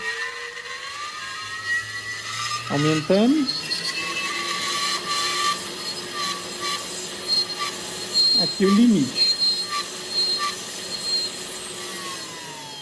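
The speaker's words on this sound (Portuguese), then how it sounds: "Esse barulho às vezes ele faz, às vezes não faz, mas eu acho que é o rolamento que não tá legal" A steady high mechanical whine with a grinding, scraping undertone from a 500-watt spindle motor with a worn bearing, rising twice in squealing sweeps while someone speaks briefly.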